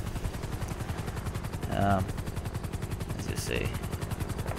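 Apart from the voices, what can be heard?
police helicopter in GTA V LSPDFR video game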